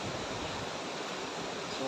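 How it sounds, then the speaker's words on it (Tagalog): Strong river current rushing steadily below a waterfall trail in Majayjay, Laguna, a soft continuous wash of water heard from a distance with no voices. "Malakas na yung agos ng tubig."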